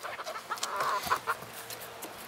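A hen, one of a mixed backyard flock, gives a short run of close, moderately loud clucks in quick, uneven succession, alone with no voices.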